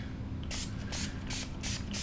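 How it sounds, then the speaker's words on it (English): Guitar polish sprayed from a pump bottle onto a rag during a guitar restring and setup, about five short sharp hissing squirts in quick succession, close up. "Take your rag, spray the polish on the rag."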